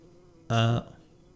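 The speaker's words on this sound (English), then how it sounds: "Do you hear a buzzing that sounds like a bee flying around?" Buzzing bee sound effect from the video game Earthbound, a single short synthetic buzz lasting about a third of a second, clear and close against a quiet background.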